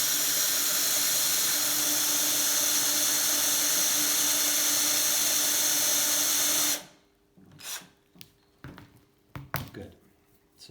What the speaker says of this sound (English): that's the little drill